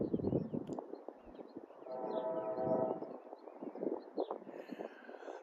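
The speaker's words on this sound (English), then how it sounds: "There's another train." A train passes beside a river near Illinois Route 84, sending a steady rumbling roar across the valley with a brief sustained horn-like tone in the middle, moderately distant and outdoors.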